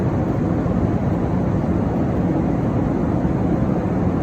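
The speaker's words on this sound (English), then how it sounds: "some airplane noises" Steady, low rumbling roar, like an airplane cabin or engine drone, constant and even with no voices.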